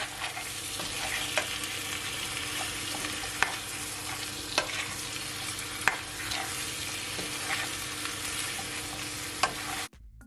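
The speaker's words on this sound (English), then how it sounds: "Gonna give it a stir." Jamaican pepper shrimp frying in a pan on the stove as a spoon stirs it, a continuous loud sizzle broken by regular scraping clacks, ending abruptly, with no talking.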